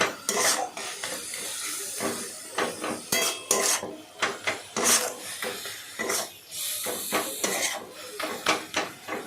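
Sapla dal being stirred with salt in a pot, a spoon scraping and knocking against the vessel in irregular bursts, close and loud, with short pauses between strokes.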